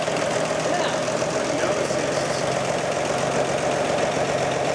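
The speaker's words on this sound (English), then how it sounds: "Ah, she's idling! Look at that. No, it's idling." A Toyota FJ40 Land Cruiser engine idles on a first start with a continuous rough, knocking rumble, steady and close throughout, while a person speaks over it.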